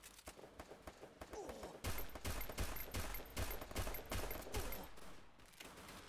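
Rapid automatic gunfire from the CS:GO Mobile game, with quick repeated bursts of shots that become a dense sustained volley midway through, loud and close.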